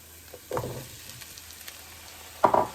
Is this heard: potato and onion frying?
yes